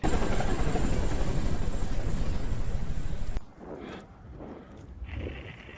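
A loud, steady helicopter roar close by in a scene from the war film Lone Survivor, cutting off abruptly after about three seconds, leaving quieter rustling and scattered faint noises.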